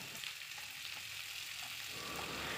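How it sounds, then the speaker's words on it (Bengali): Sweet potato and pumpkin pieces fry in hot oil with mustard seeds and slit green chillies, giving a steady soft sizzle that holds evenly through the whole short stretch with no voices. "দিয়ে একটু ভেজে মিষ্টি আলু ও কুমড়োগুলি দিয়ে ভেজে নেব।"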